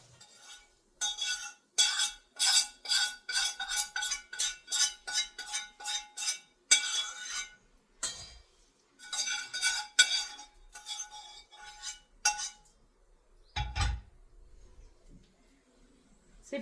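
Puffed rice is tossed and stirred with fried ingredients in a metal vessel, a long run of bright rhythmic scraping clinks in bursts with short pauses, close and clear, no voices.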